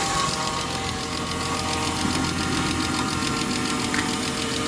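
A BMW M3 engine idles steadily nearby with a low, continuous rumble and faint rhythmic knocking, no voices.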